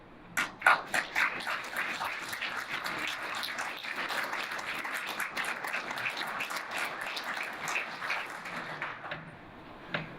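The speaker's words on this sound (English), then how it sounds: "let's just take a moment to applaud those mentors and sponsors for all of us here" An audience at a ceremony celebrating 25 years of a technical workforce education program claps in sustained, fairly distant applause that holds steady for about ten seconds before thinning out.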